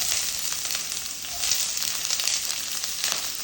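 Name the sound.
small onions frying in coconut oil with curry leaves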